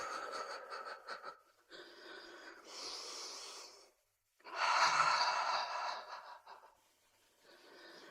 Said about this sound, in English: you can hear my breathing while I'm shaking